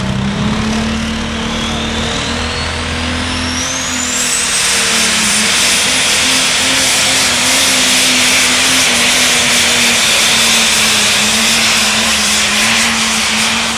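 A heavy-class pulling tractor engine roars loudly and continuously nearby as it builds pressure, its pitch shifting and then holding a sustained, powerful drone.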